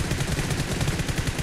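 Rapid bursts of gunfire from a pro scrim match in a battle royale video game, a dense stuttering rattle of shots sounding steadily through the whole moment with no voices.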